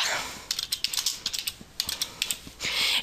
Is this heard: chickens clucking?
no